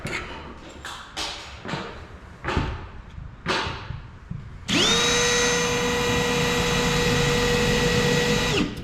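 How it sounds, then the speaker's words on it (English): A few knocks and clatters give way to an electric drill spinning up, a steady loud whine that runs without pause to the end. "This drill bit don't cut, which is nice."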